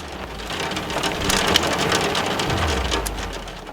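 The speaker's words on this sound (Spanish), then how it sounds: "una lluvia de piedras heladas que bombardea el avión de manera constante" Dense, steady pattering of hailstones hammers an airplane's fuselage in flight, a loud continuous drumming roar with a deep low rumble beneath, with no voices.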